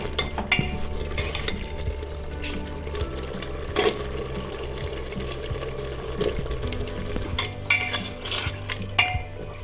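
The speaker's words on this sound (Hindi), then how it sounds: "2 से 3 मिनट तक हम आलू भूनने के बाद फिर अपनी फलियों को डालेंगे।" Potatoes fry in a pan with a steady sizzle and hiss, while a utensil stirs and scrapes against the metal now and then. The sounds are close and continuous, with no talk.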